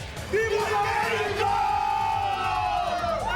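Soccer fans inside the Alamodome roar and chant loudly as a sustained crowd bellow ahead of a Mexico versus Paraguay match, rising and holding steady throughout.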